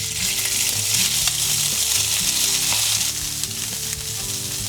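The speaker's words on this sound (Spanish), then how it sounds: "Ahora lo que haremos será saltear por separado todos los ingredientes, el tofu, los guisantes, la zanahoria y el arroz." Tofu, peas, carrot and rice sauté in a pan with a loud, close, continuous sizzle, joined by intermittent scraping and tapping of a utensil across the pan.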